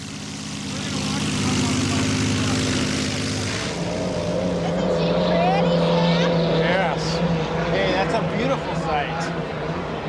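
A 1983 unlimited hydroplane race boat's engine drones loudly through a qualifying lap, a steady heavy roar that shifts in pitch partway through, with a commentator's voice running over it.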